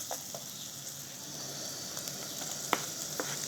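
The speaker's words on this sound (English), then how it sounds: "So first we will boil pepper until it's soft" Green pepper frying in a pan, a steady close sizzle with a few sharp pops and occasional stirring clicks, with no talking.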